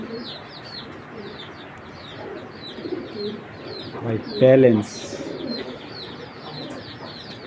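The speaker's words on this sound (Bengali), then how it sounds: "এই যে এটা হলো অরিজিনাল বিদেশি কবুতর" Imported foreign-bloodline racing pigeons give a soft cooing call, clearest in one brief burst midway, set among background chirps and someone talking nearby.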